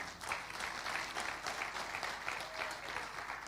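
A church congregation claps steadily and fairly loudly, the dense patter of many hands holding an even level throughout.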